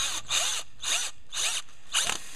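A power drill drives a screw and washer into a wooden compost bin, five short whirring bursts in steady rhythm with brief pauses between, close and moderately loud.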